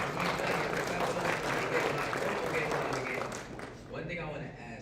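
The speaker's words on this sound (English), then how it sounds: "Clap it up. Clap it up." A room of attendees at a business funding mastermind event claps together for several seconds, the applause fairly loud and then thinning toward the end, with some voices mixed in.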